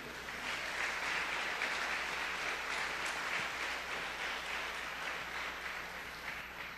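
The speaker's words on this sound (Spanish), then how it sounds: "Denle un fuerte aplauso al Señor." A church congregation applauds together, a sustained, even, moderately distant wash of clapping with no break.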